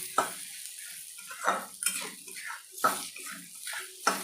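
Cashews and raisins frying with vegetables in a pan for sabu pulao, heard as rhythmic scraping stirs about once a second over a faint sizzle, close and without voices.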